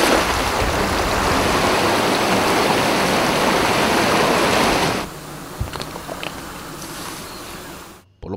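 Swollen, flooded San Pedro river rushing with a loud, dense, steady roar for about five seconds, then dropping to a softer broadband flow with faint scattered knocks before cutting off.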